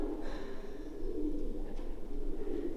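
A pigeon coos nearby in an abandoned building, a soft repeated low cooing over faint background hum.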